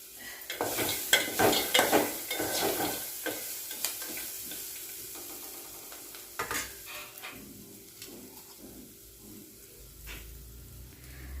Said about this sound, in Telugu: ఉల్లిపాయలు వేగినాయి కదా ఇందులోనే పల్లీలు కూడా వేసుకోవాలి